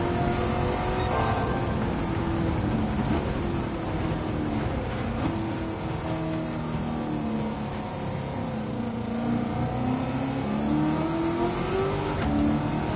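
Pantera car engine in Gran Turismo 7, revving steadily with rising and falling pitch as it accelerates and lifts through corners, loud and continuous throughout with no talking.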